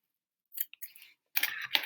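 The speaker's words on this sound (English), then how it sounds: "So I'm going to take a scissors and cut off a little piece of string," Scissors snip through a short piece of string at a tabletop clay-puppet craft session, a few close, crisp cuts separated by brief silences.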